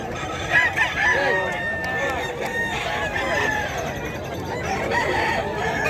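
At the Bocaue pet market, several roosters crow in overlapping calls with scattered clucking, moderately close over a steady bustle of background noise.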